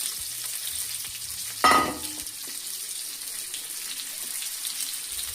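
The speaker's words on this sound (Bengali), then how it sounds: "পেঁয়াজটা ভালো করে ভেজে নেব" Onion frying in a pan for a Bengali home recipe, a soft steady sizzle with one brief louder clatter of stirring near the start, then a quiet continuous hiss.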